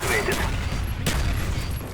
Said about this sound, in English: they recycled the same explosion and shotgun sound effects that it starts to wear on your mind the longer you play